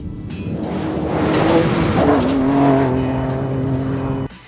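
A 2024 Ford Ranger Raptor with active exhaust roars loudly as it accelerates, engine note climbing and swelling through the middle before cutting off abruptly near the end, with no talking.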